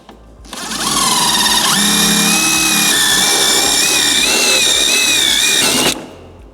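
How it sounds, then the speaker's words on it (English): A power drill bores a hole for speaker wire on a 1998-2013 Harley-Davidson Street Glide, letting out one loud, sustained whining run of about five seconds with a shifting pitch, close by and alone. "we're gonna drill a hole for the speaker wire"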